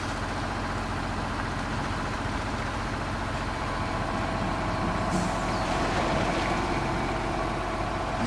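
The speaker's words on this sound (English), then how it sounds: "Engine sound on this one, Jesus Christ." A truck engine in the off-road mud game Spintires Mudrunner rumbles continuously at a low, even pitch, close and steady, with a faint rise partway through and no voices.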